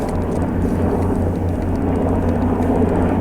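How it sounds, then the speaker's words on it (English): A loud, low, steady rumble with a churning drone from a helicopter passing overhead, filling the whole stretch without pause. "helicopter going over."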